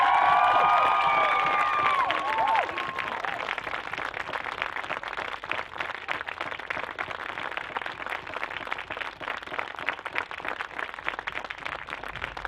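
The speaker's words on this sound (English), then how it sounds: "Let's give them a round of applause." Graduation crowd at a 2021 academy ceremony clapping and cheering for the graduating class. A whistle or shout rises briefly at the start over a long, steady, even roar of applause from a large audience.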